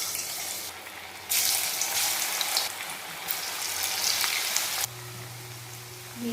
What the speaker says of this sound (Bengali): কড়াই আমি তেল গরম বসিয়ে দিয়েছি। এবারে আমি একটা একটা করে ভেজে নেব।